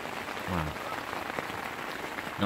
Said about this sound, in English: I've got rain.